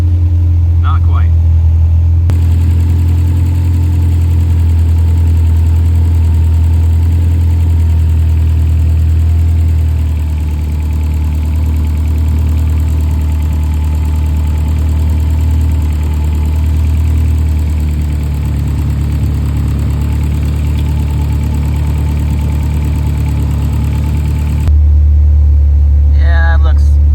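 A Honda K24 engine idles steadily during Fuel Tech tuning, a loud, continuous low rumble lasting most of the stretch, with brief higher-pitched sounds near the start and end.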